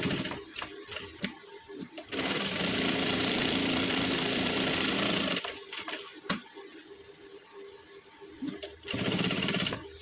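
A sewing machine runs in a steady, continuous burst while stitching along the edge of a gents' suit cuff, starting and stopping with brief pauses between runs, close and fairly loud.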